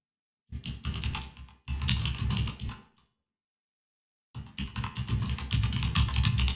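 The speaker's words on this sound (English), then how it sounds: "my keyboard clacks because my mic isn't set up properly yet" A computer keyboard clacks loudly and close up in fast, dense bursts of typing, with two long runs split by a pause of near silence before the keys resume.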